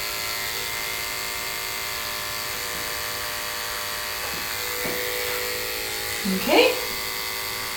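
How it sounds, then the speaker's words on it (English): An electric clipper hums steadily and close by as it trims hair from the corners of a Westie's eyes during grooming. The buzz shifts slightly in pitch as it meets the fur, and a voice speaks briefly. "gently take my clipper and scoop that hair out of the corner of the eyes with just the corner of my clipper"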